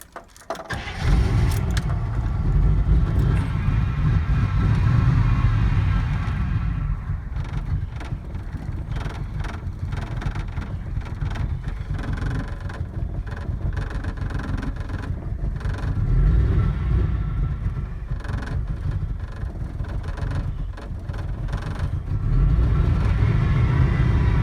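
A car engine cranks and starts on a very cold day, then settles into a low, steady idle that sags and rises slightly, with faint clicks and jingles near the start and no talking.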